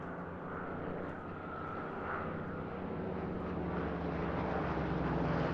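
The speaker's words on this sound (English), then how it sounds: "Two fighters now coming towards the end of their sequence." World War II fighter planes, a Hawker Hurricane and Supermarine Spitfire pair, fly past at Eastbourne International Airshow, a steady broad engine roar that holds loud throughout, with no talk in the clip.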